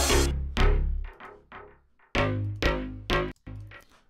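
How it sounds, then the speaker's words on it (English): A pitched-down Cymatix Serum preset bass from an electronic remix drop pulses in a choppy run of about eight heavy, gated notes, deep and loud, each cutting off sharply, with no voices over it. "there is this bass sound that you can hear"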